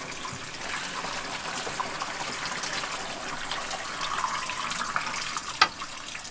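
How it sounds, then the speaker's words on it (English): Water pours steadily from a tap into a jug for a van's recirculating shower reservoir, a continuous close trickle and splash with one brief knock near the end. "we just fill up our jug"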